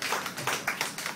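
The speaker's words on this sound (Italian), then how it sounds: "Un grosso applauso per noi" Audience applause at an Italian concert, a short burst of scattered, fairly sparse hand claps with irregular rhythm, moderately close and steady through the moment.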